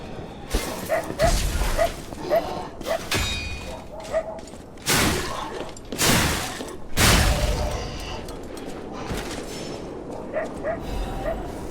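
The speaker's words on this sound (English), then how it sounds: "Someone's dog's barking." A dog barks in the video game Lies of P, with several sharp, loud yaps and whimpers coming in irregular bursts over quiet background noise.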